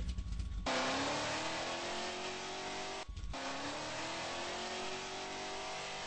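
A car engine in a driving video game climbs steadily in pitch, drops as it shifts up a gear, then climbs again. The loud, continuous synthetic whine plays alone with no voices.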